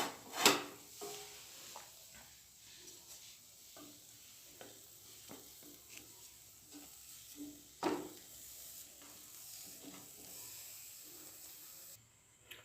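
Pizza dough in a pan on a stovetop that has just been switched off, a soft, steady hiss of frying under scattered scrapes and clacks from turning the dough, all quiet and close.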